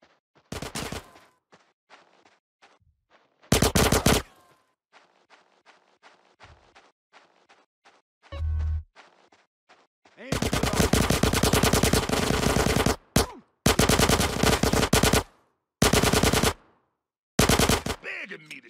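Video game gunfire in GTA San Andreas: a few single shots, then several loud bursts of rapid automatic fire in the second half, separated by short gaps and quieter clicking.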